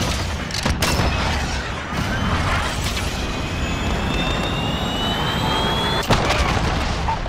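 A missile strike explodes in a military shooter video game, a loud sustained rumbling blast layered with whistling, streaking tones and a sharper crack near the end.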